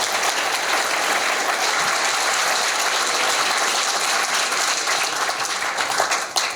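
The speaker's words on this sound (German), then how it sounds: "Damit bitte ich um einen herzlichen Applaus für Matthias Voigt." A hall audience at a German poetry slam bursts into dense, sustained applause that stays loud and even throughout, tapering only at the very end.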